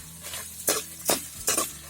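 Spices and coriander fry together in a pan for Mangalore-style Marwai Pundi, a soft sizzle broken by three quick stirring scrapes, up close and without speech.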